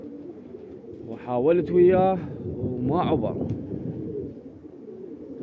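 Pigeons coo on a rooftop during a morning pigeon-flying session, soft repeated calls close by, mixed with someone talking over them and a low wind rumble.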